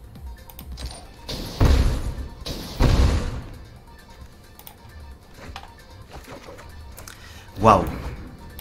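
Expansion//Explosion card resolving in MTG Arena, a couple of heavy crashing impacts in quick succession followed by a lighter thud later, with people talking over them.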